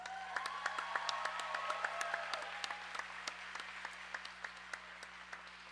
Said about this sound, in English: let's put our hands together for all the volunteers who make all this possible